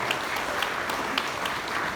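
Brief, dense applause from an audience at a campaign list presentation, greeting a named list member; steady clapping fills the whole moment at an even level.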